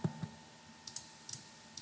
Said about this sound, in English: Okay, so we can double-click.